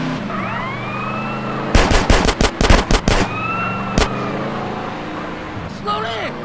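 Gunfire during a drive-by in GTA San Andreas, a quick cluster of sharp shots followed by one isolated shot, over a steady car engine hum with voices talking around it.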